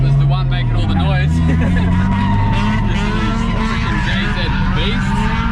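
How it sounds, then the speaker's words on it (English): Loud drift car at full throttle on Queensland Raceway during a drift day, engine roaring steadily with rising and falling revs and tyre squeal throughout, close and dominant with a faint voice underneath. "it's a bit loud, that car"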